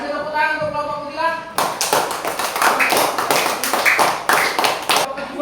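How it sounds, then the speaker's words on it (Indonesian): Classroom applause breaks out for a student group: a burst of many hands clapping, close and lively for several seconds, following a short stretch of a voice speaking. "Kasih tepuk tangan untuk kelompok kutilang"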